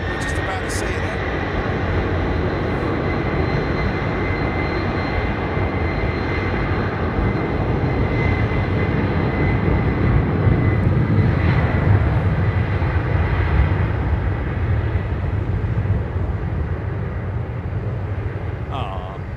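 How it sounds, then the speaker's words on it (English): A Boeing 777 departing London Heathrow for LAX sends a steady jet roar across the airfield, moderately loud and continuous, with a voice talking over it. "the crew on the 777 about to depart to LAX"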